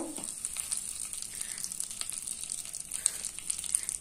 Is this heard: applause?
no